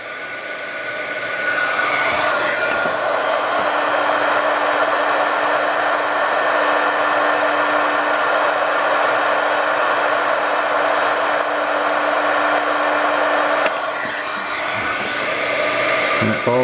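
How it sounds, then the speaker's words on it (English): Heat gun blowing on a solder shrink sleeve to melt the heat shrink and solder ball: a loud, steady blowing whir that runs continuously for over ten seconds, with a brief dip in level near the end. "And I'm going to start heat shrinking this, and this little ball of solder should melt."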